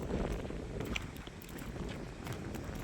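Strong wind blows outdoors near a river, roaring steadily as a loud, continuous rush with gusty buffeting against the microphone throughout.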